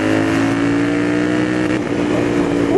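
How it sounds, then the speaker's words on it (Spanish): Royal Enfield Interceptor 650 twin-cylinder motorcycle accelerating in second gear, a loud, close, continuous engine note with its pitch rising steadily, heard alone without talk. "Y esa moto suena increíble."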